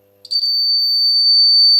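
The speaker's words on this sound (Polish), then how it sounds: "Jest alarm, dioda się świeci" A steady high-pitched electronic alarm buzzer on a homemade power supply with its own voltage reference sounds alone, starting abruptly and holding a continuous loud tone, triggered when an LED is connected across the 30 V output.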